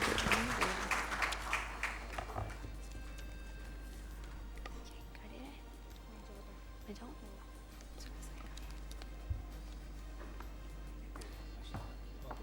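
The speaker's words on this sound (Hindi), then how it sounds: "आपकी भरपूर तालियों में अनवार अहमद ज़ई।" Audience applause at a stage event, strongest at the start and fading within a few seconds into a low murmur of crowd noise under a steady hum.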